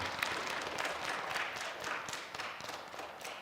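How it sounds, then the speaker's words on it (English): Scattered applause from a small audience at a third-grade school spelling bee, a fairly quiet patter of hands clapping steadily for a few seconds with no talking. "Let's give Avery a round of applause."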